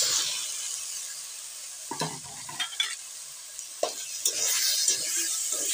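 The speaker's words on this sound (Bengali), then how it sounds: "মশলার উপরে কষা" Egg curry being stir-fried over spices in a pan, a steady sizzle with intermittent scraping stirs of a spoon, close and alone.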